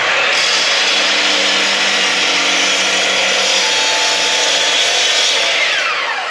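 A Bosch GCM12SD miter saw with its stock blade cuts through wood, a loud, steady whining rip with a grinding edge that runs without a break for about six seconds, close to the microphone and with no talk.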